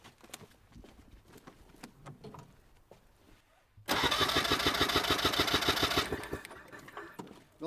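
A Trabant rally engine cranks over during a compression test: faint workshop clatter first, then a loud, rapid rhythmic churning of the starter turning the two-stroke engine for about two seconds before easing off.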